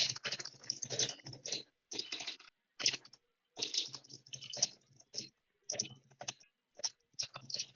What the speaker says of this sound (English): You're also going to hear me typing.